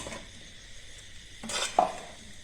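Fried colocasia vadi pieces sautéed in a pan for alu vadi pickle: a soft background hiss, then a scraping stroke and a sharp utensil clink against the pan, close by.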